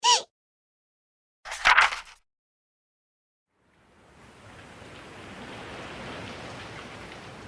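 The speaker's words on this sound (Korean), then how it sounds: "갑자기 소낙비가 주룩주룩" A sudden rain shower swells in from silence after a couple of short, sharp sounds, building into a steady, even hiss of pouring rain that holds to the end.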